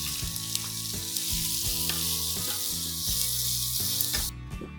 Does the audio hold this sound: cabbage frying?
yes